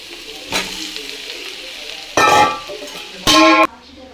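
Green beans frying in oil with mustard seeds and urad dal, a soft background hiss broken by two loud bursts of sizzling as ingredients hit the hot pan, the second burst sharp and sustained.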